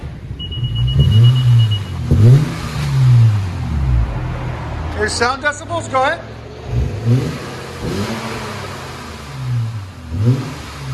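Deep, loud engine revs from a 2005 Acura RL with dual exhaust and muffler delete, in repeated bursts, rising and falling, with a short electronic beep early and people talking briefly between revs.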